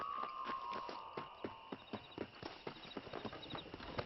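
A horse ridden in the Red Dead Redemption video game on Nintendo Switch trots with a steady clip-clop of hooves, quiet and even, over soft game ambience and a brief tonal note at the start.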